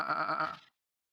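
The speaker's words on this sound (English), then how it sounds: "I just hear the blissful bleating of an annoying little sheep." A small sheep bleats once, a wavering nasal cry that lasts under a second and then cuts to silence.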